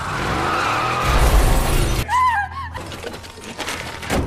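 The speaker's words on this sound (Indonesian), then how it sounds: "sebuah mobil melaju kencang dan berhenti mendadak di dekat gedung tak jauh dari lokasi Smith berada" A car speeds in and brakes suddenly near a building, a loud rushing engine roar followed by a high squealing skid of the tires, then a rattling, scraping tail as it settles.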